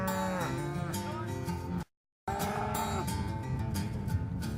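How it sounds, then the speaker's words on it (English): Cattle being driven across open range, several cows mooing loudly and close by in long overlapping lowing calls, broken by a brief moment of silence, with no talking. "See, you've got the cattle going in the right direction now."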